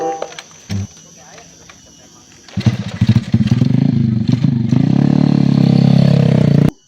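A borrowed motorcycle in a Sundanese comedy sketch starts up after a quiet moment with a brief knock, then its engine runs loud and close, its rumble swelling steadily as it revs.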